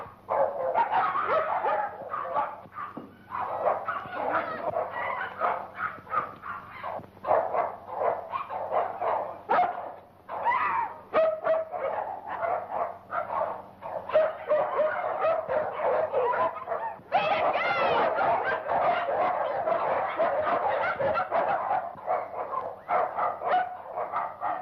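Several dogs bark, yip and whimper continuously at close range, in overlapping irregular bursts that barely pause throughout.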